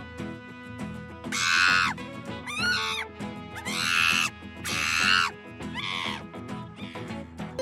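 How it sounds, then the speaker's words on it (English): Animal calls from a sound-guessing quiz, presented as a monkey: several loud, shrill, harmonic screeching bursts in a row, repeated about five times with short gaps, with no talk. "Correct! It's a monkey!"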